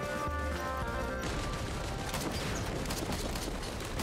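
Gunfire in the video game Risk of Rain 2, a dense barrage of crackling shots and impacts layered over a busy game soundtrack, continuous and fairly loud without spoken voices.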